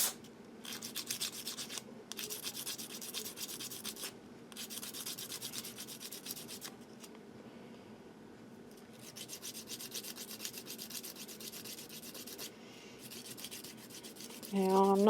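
A fingernail file rubs back and forth over small spicebush seeds to scar their coats, giving a soft, rapid rasping in bursts with short pauses, close and faint.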